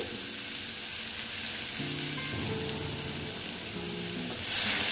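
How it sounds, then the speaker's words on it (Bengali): Sliced ridge gourd sizzles and fries in a pan while it is stirred, with a steady crackling hiss throughout and a few soft scraping strokes under it. The frying grows louder near the end. "আবার ঝিঙের সঙ্গে অল্প আমি নেড়ে চেড়ে নিচ্ছি"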